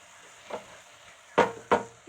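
Masala for an egg masala gravy being stirred in a pan, three short scraping strokes, the last two louder and close together, against a quiet low hiss.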